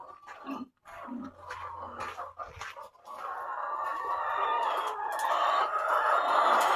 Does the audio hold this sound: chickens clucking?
yes